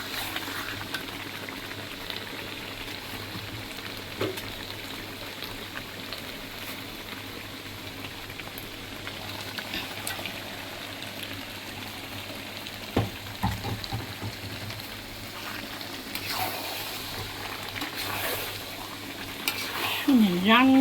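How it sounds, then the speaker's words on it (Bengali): A roast with spices fries and sizzles steadily in a pan, with a soft, continuous crackle, and occasional stirring scrapes and knocks rising above it, fairly quiet throughout. "এই যে আমার রোস্টটা মশলা কষিয়ে ভালো করে"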